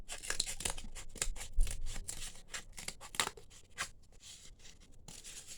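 Scissors cutting a piece of cardboard up close: a quick series of crisp snips and scraping rustles, fairly quiet, with a few louder cuts.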